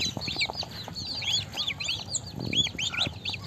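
Goose goslings being fed chopped cabbage in a village yard, a steady chorus of high, rapid peeping chirps close by, with soft pecking and rustling underneath.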